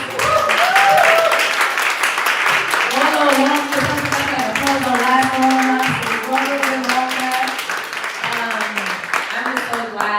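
Audience applause at a Black authors event, clapping running steadily for about ten seconds while a voice and cheering carry over the top.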